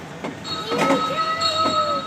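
A small ride-on train at a shopping mall rolls along indoors, with a steady mechanical hum, a thin sustained whine and some squeaking, while people talk nearby in an echoing space.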